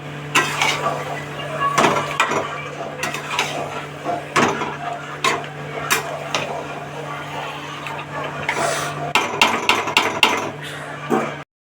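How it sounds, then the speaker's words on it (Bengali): Chicken pieces stir-fried in spices in a pan, with repeated sharp scraping and clanking of a spatula against the metal under a steady sizzle, close and busy throughout. "এবার ভালো করে মাংসটাকে কষাবো"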